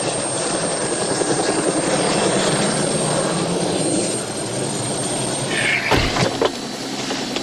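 A helicopter drones steadily and loudly throughout, its rotor and engine noise filling the scene, with a brief sharp knock near the end.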